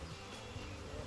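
Dense, steady buzzing of a honey bee swarm gathered on the ground and on a person, close and continuous, with a low droning hum throughout.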